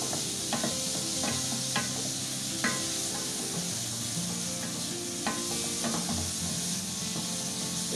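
Red peppers, shallot and garlic sauté in a pan as they are stirred, giving a steady close sizzle with scattered scraping clicks from the utensil and a constant background hum.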